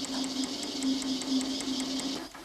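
An Eckold Kraftformer metal-forming machine runs with a steady hum and fast rhythmic tapping as it stretches a metal section into an S-profile, even and close with no talk.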